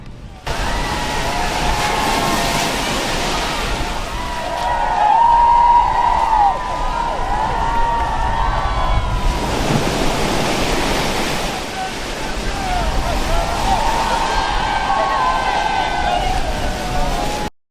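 Loud, steady ocean surf pounds and rushes continuously at a dog surfing contest in Pacifica, with breaking waves swelling and easing in broad surges and no voices above the roar.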